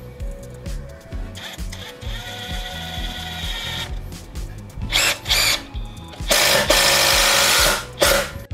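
A Bosch GDX 18V-200 cordless impact driver drives a 4 cm screw in loud, repeated bursts of whirring and hammering, with short pauses between pulls of the trigger. A harsh, rapid rattle stands out near the end.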